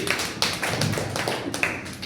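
Children in a classroom clap for a student, a dense burst of uneven, scattered hand claps close by, continuous for about two seconds with no one speaking.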